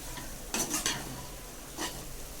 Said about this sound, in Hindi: देखिए हमने कॉर्नफ्लावर उसके अंदर डाल दिया है। अब इसको अच्छे से मिक्स कर लेंगे।